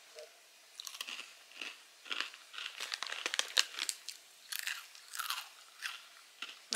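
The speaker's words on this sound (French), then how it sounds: "Je fais des légumes, mais à côté de ça, je me tape des chips." Someone munching Lay's barbecue potato chips right up close, with repeated crisp crunches and bag crinkling in an uneven chewing rhythm, no talking.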